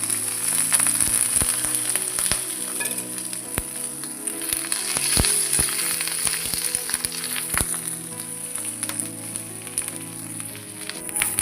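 Oil sizzling steadily in a pan while mijji kara fries, a dense crackling hiss with scattered sharp pops, close and continuous.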